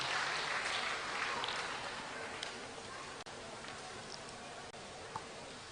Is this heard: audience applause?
yes